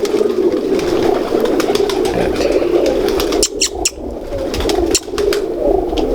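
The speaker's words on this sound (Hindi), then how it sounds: "ये जी हिनो वाला कबूतर है।" Hino breeder pigeons cooing in a steady, continuous murmur close by, with a few brief wing flaps and a short pause partway through.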